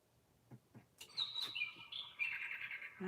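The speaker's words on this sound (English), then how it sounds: "I hear you, bird." Bird chirping nearby indoors during a craft session, a few soft short chirps followed by a bright, sustained run of tweeting calls, alone with no talk.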